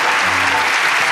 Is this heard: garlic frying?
no